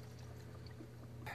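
Water running through an iSpring six-stage RO filter system after a supply valve is reopened, a faint steady flow hiss over a low hum for about a second, with a brief louder rush at the end.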